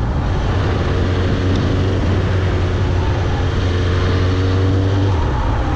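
A Suzuki GSX-R 1000 K7 sportbike engine drones steadily in fourth gear at about 2500 rpm under constant wind rush, a loud, continuous low hum with no voices.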